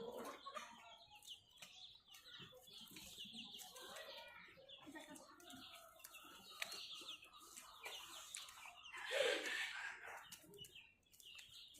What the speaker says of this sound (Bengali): অনেক ফ্রেন্ডলি হয় এই পাহাড়ি মুরগির বাচ্চাগুলা, মুরগিগুলা অনেক ফ্রেন্ডলি হয়